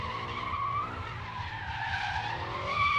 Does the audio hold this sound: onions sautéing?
no